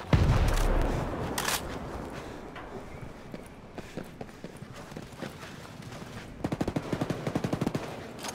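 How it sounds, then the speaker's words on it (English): Gunfire in Modern Warfare 2, a heavy blast at the start, then scattered sharp shots, with a quick rhythmic burst of repeated reports toward the end. "Incoming sniper fire."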